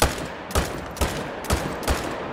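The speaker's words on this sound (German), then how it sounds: "Ich werde jetzt hier mal noch einfach fünf Schüsse abgeben." Five loud rifle shots in the video game theHunter: Call of the Wild fire at a steady interval of about half a second, each sharp crack followed by a brief echoing tail.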